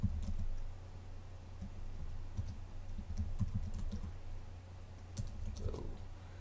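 Computer keyboard being typed on, adding simple text: a steady patter of soft key clicks in uneven bursts, close and fairly quiet, with no talking.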